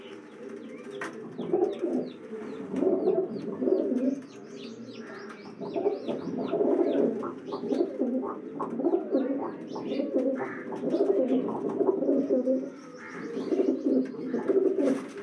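Low flyer pigeons coo steadily in low, throaty rolls, with scattered chirps from other birds overhead; no talking.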